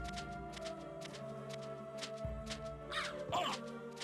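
Harsh cawing of a crow in Castlevania: Symphony of the Night (1997), a couple of loud caws near the end over steady background game music.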